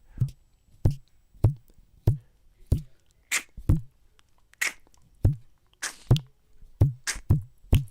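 A single string is plucked again and again, each twangy pluck short and sharp with quiet gaps between, roughly two per second.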